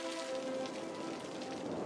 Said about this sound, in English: It's 21 degrees and it's raining.